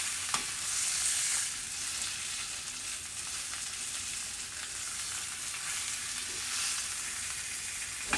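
Chicken sears in a pan for a Tuscany chicken and spinach pasta, a continuous bright sizzle and crackle of frying, steady and close with occasional stirring bumps.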